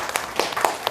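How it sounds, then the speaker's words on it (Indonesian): A short burst of handclapping from a group in a classroom-style religious lesson: a few quick, moderately loud claps spread across under a second. "Tepuk tangan untuk kita semua."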